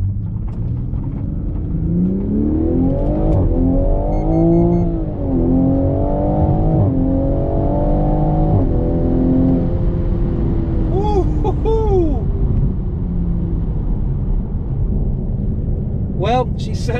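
A tuned Toyota MkV Supra accelerates hard on the road in sport manual mode, its engine note climbing loudly through several gears with sharp drops at each shift, then settling into a steady cruise drone.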